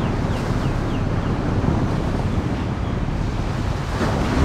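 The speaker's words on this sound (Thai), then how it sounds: "คลื่นยังนิ่งอยู่เลย" Calm ocean surf washes continuously at a beach campsite in Sattahip, Chonburi, Thailand, a loud, steady rushing mixed with gusty wind noise on the microphone.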